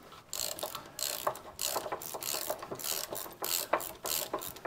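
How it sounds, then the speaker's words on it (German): A ratchet wrench loosens bolts on an IHC 844 tractor. It gives rapid, uneven bursts of metallic clicking at close range, with short pauses between pulls. Nobody speaks. "Da können wir jetzt theoretisch die beiden Schrauben lösen."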